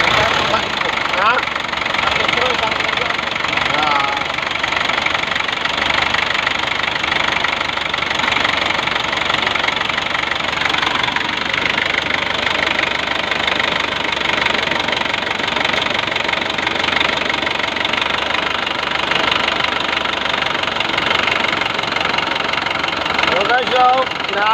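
An Isuzu 4BA1 diesel engine idling rough with a knock, a loud, steady, close mechanical clatter throughout, with people talking over it.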